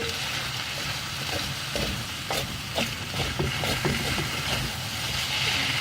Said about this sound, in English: we want the rice to fry and not soak up all the liquid like a risotto